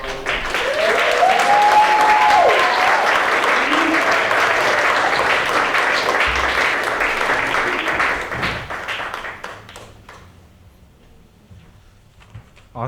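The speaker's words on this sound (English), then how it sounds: "Can we get another round of applause for Bibi?" An audience at a Two Spirit artist showcase breaks into a sustained round of applause after a presentation, with a voice briefly heard over it, then the clapping gradually dies away.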